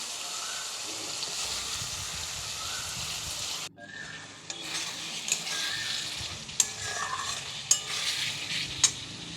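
Pasta sauce cooking in oil in a pan while it is stirred, giving a continuous close sizzle. The sound briefly drops out, then returns with scraping and a few sharp taps of the spoon against the pan.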